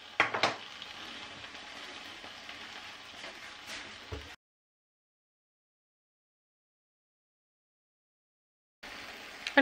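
Crumpets fry in a pan, a soft steady sizzle with a few sharp crackles for about four seconds, then silence before the faint sizzle returns at the end.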